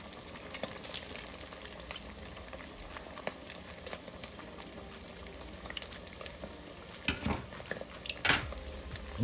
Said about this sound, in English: we're going to fry these till they're nice golden brown